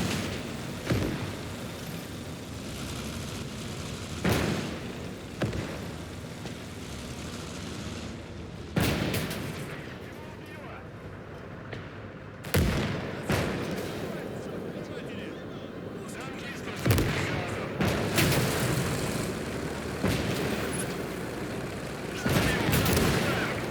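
Mortar fire in Call to Arms: Gates of Hell booms out in a string of heavy, spaced blasts, some close and loud, others distant, under battlefield rumble with talk in between.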